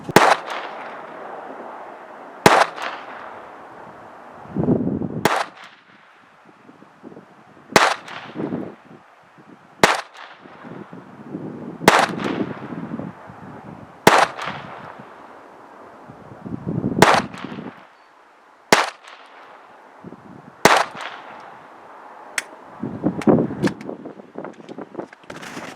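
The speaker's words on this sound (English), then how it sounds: "So I'm going to shoot this one more time, adjust my sight picture and alignment," Single Glock 44 pistol shots at an outdoor range, about ten sharp cracks spaced a couple of seconds apart, loud and close, with quieter handling noises between them.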